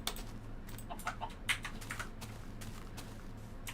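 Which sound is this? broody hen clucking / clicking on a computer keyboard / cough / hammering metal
clicking on a computer keyboard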